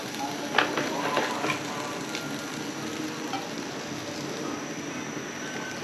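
Oil goes into a hot, dry pan while cooking Kenyan kunde cowpea leaves, raising a steady, moderate sizzle and crackle close by, with a few sharper spits early on and no talk over it.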